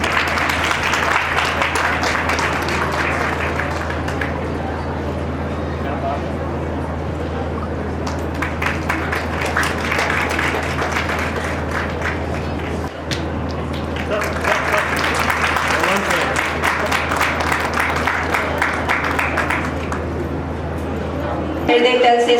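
An audience at a college annual day prize distribution breaks into two sustained rounds of clapping in a hall with a steady low hum, the applause swelling and fading.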